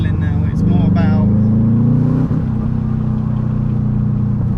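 A loud Subaru Impreza WRX Prodrive engine drones steadily with a deep rumble, and its pitch shifts slightly as the throttle changes while a voice talks over it.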